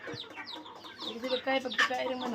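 Several chickens cluck and squawk close by in a busy, overlapping chatter, with a few louder calls toward the end.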